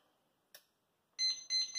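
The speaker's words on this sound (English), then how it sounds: "So I'm going to set a timer." A kitchen timer, set while nettle tea steeps, gives a faint click and then two short electronic beeps in quick succession.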